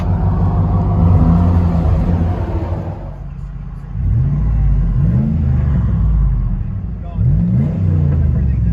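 A Dodge Dakota with a 4.7L V8 and a loud aftermarket exhaust idles with a deep, throbbing drone, heard from inside the cab. A few throaty blips of the throttle rise and fall over the rumble, and a voice talks over it.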